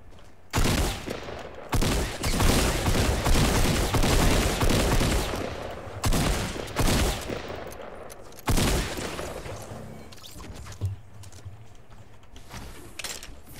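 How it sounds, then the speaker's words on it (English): Gunfire in a Fortnite match, bursts of rapid shots and sustained volleys cracking in quick succession, loud and repeated, with shorter isolated shots and quieter stretches toward the end. "They're getting shot at."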